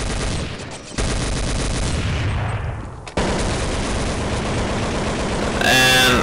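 Dense, rapid gunfire from Counter-Strike 1.6 rattles on loudly and almost without pause, with sharp breaks near one and three seconds and a harder, brighter burst right at the end.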